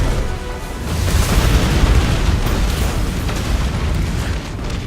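A Cabal attack on Mars in Destiny 2 brings a deep, rolling explosion rumble that swells and holds loud and close for several seconds, heavy in the low end, with no voices.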